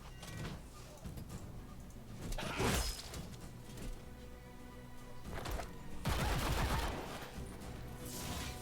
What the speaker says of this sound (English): Those are pistols. How are they rapid fire?